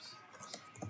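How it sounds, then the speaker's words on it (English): Typing on a computer keyboard while entering a website address for sticker text in a craft design program, a short burst of light clicking keystrokes, close and fairly quiet. "I'm going to start typing"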